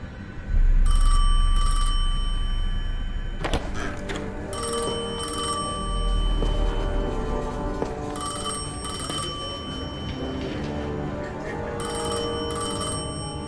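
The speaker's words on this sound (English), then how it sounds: "I felt the ringing more than I heard it." An old telephone rings in Destiny 2, repeated bell bursts in a regular on-off rhythm over a low rumbling ambient drone, loud and close.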